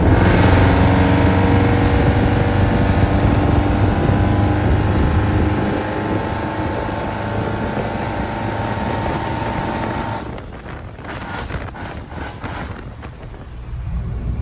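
Square body truck engine accelerating hard, a loud close roar that holds steady then eases and drops off toward the end, with no talk over it.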